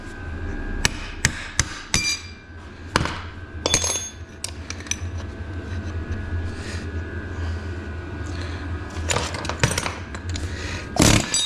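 Ball peen hammer blows on metal in a workshop while working on semi truck starters and alternators, sharp clanging strikes in irregular bursts, some close together, with quieter handling noise between.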